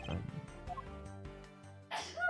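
In the game Ace Attorney Investigations Collection, a sharp sneeze bursts out near the end after a stretch of music, loud and close.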